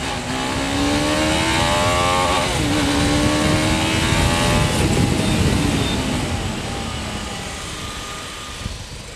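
A new TVS Apache 310RR motorcycle accelerates hard close by. Its engine note climbs steadily in pitch, loud and continuous for about nine seconds with no voices.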